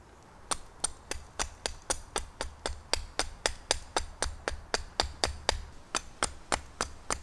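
A rapid, steady series of sharp knocks at a wet campsite, a mallet striking repeatedly about three times per second, close and alone with no talking.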